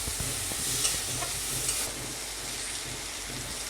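Ingredients for kolmi shak bhorta fry and are stirred in a pan, a steady close sizzle broken by scraping stirs, with no talking.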